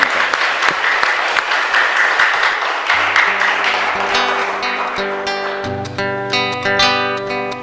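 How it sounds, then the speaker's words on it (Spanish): Congregation applauding loudly at the close of Mass in the Santa Ana chapel, a dense burst of clapping that carries on as organ or keyboard chords enter and build beneath it. "Fuerte aplauso para ustedes."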